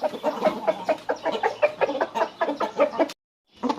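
A farm's main breeder rooster clucks in a quick, close run of repeated calls, then stops abruptly before a short resumption.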